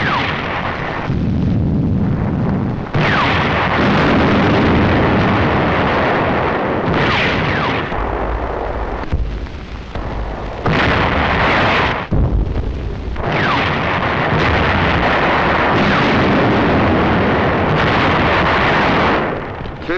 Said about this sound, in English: November the 25th, the first real tank clash.